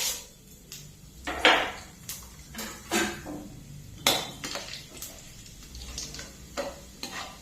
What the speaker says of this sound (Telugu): ఇప్పుడు పోపు గింజలు వేసేసుకుందామండి.